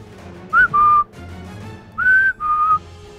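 Two clear whistled phrases, each a short rising note followed by a longer steady tone, sound loud and close against quiet background.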